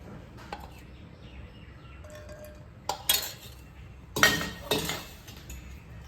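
A spoon clinks against a pan as oil is added for a Kathiawadi-style tempered millet flatbread, giving a few sharp metallic taps and scrapes, spaced apart, in an otherwise quiet kitchen.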